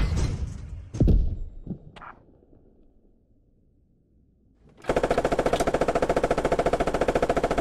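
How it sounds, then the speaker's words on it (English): Machine gun fire erupts in a video game battle with tanks: a few sharp shots and thumps up front, a near-silent pause, then a loud, steady burst of rapid automatic rounds with a fast, even rhythm. "What's that MG near us?"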